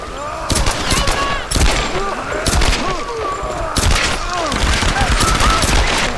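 Gunfire in Tomb Raider 2013, a loud fusillade of repeated shots and booming bursts coming in clusters with short gaps between them, with shouting voices mixed in.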